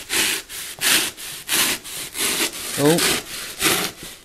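A jigsaw cuts through wood for a window opening in a bus conversion, heard as about eight rhythmic rasping strokes, close and loud, with a brief exclaimed voice in the middle.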